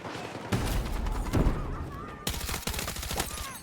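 Rapid automatic rifle fire in the shooter game Battlefield 6, fired with a KORD-6P67, crackling in dense bursts with sharp reports and distant battle noise behind.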